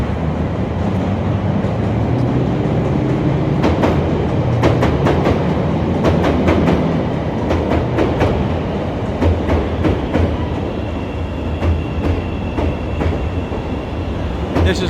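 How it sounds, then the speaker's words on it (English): An elevated train rumbles over Wabash Avenue in foggy downtown Chicago, a loud continuous roar with repeated metallic clacks and squeals as the cars pass overhead. "There's the train coming."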